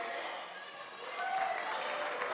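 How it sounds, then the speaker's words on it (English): An audience claps for performers at a South Hills group show, a short burst of dense applause mixed with crowd murmur that swells slightly partway through before stopping abruptly. "People really love the applause."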